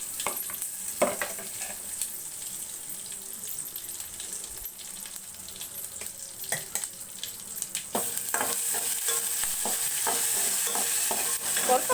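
Mustard seeds, cumin and curry leaves sizzling in hot oil for a coconut chutney tempering: a steady close crackle and hiss with scattered sharp pops, growing louder and denser in the last few seconds.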